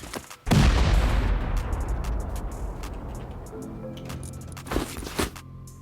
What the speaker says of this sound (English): And I guess we just send 2 C4 here to destroy these boxes.